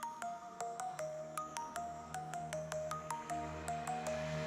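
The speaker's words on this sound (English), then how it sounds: "Techno drop." A techno music drop at a live stream: a rhythmic pattern of sharp, bright synth stabs over a steady low bass, loud and continuous.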